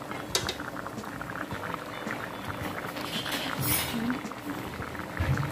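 Fish braising with pineapple in a pot over low heat, a gentle continuous bubbling and sizzling simmer with small pops, close and steady.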